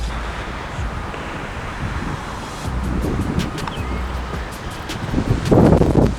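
Wind on an open golf course buffets the microphone in low, uneven rumbling gusts that build toward the end. Scattered light clicks sound in the background.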